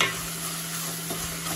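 Chopped onion sizzles steadily in a hot pan, with a continuous hiss and soft stirring scrapes of a spatula close by.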